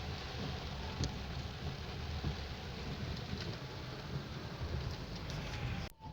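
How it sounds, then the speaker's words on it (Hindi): Heavy rain in Rawalpindi with water standing in the street below, a steady, even hiss throughout with a sharp click near the end, and no voices. "बारिश की वजह से नीचे पानी देखिए कितना खड़ा हो गया।"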